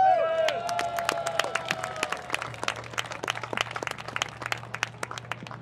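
Steady applause from a large outdoor crowd at a fife and drum muster, a dense patter of many hands clapping with a few sharp individual claps standing out, running continuously after a brief stretch of voices at the start.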